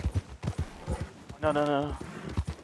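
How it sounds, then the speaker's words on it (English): Hooves clip-clop quickly and heavily from a runaway horse galloping in Red Dead Redemption 2, with a frightened voice cutting across the middle. "Runaway horse with a lady on it."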